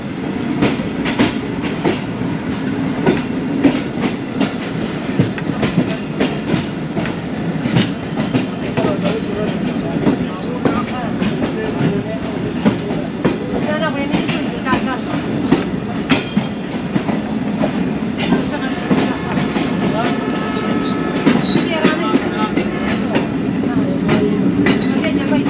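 The Awam Express pulls into Peshawar City railway station with loud, continuous rumbling and rhythmic clickety-clack of wheels over rail joints, sustained throughout, with a voice talking faintly under the noise.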